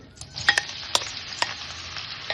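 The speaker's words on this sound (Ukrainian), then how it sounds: "помішуючи, смажимо до прозорості" Onion rings frying and being stirred in hot oil in a skillet, a soft continuous sizzle broken by several sharp scraping clicks of a utensil against the pan.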